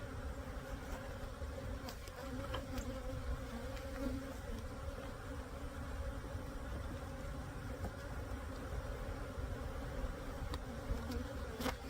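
Bees from an agitated hive swarm over a brood frame pulled for a varroa mite alcohol wash, making a dense, steady, close-up buzz that holds without pause throughout.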